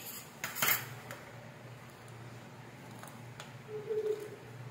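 A spoon clinks sharply against a tea pot as stirred milk powder is added to tea, a few quiet metallic taps and scrapes in a calm kitchen.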